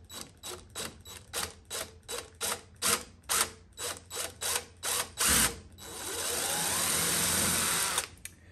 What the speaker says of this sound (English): we have our first hole marked and we're gonna drill it out